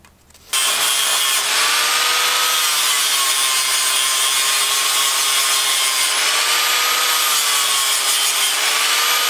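A flap disc grinds body filler in the engine bay of a Honda Integra, a loud continuous abrasive whine that starts abruptly and runs unbroken with slight pitch wavers.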